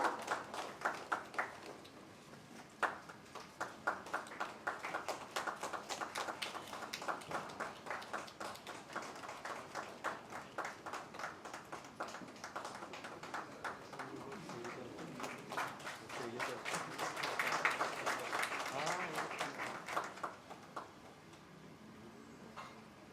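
An audience claps to welcome two guests onto a stage, a long run of crisp, closely spaced hand claps that swells and fades, with occasional faint voices beneath.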